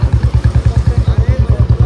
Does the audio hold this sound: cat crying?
no